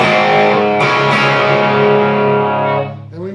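Heavily distorted electric guitar plays the rhythm of a song, with loud ringing chords struck and left to sustain, then fading out near the end with no voices.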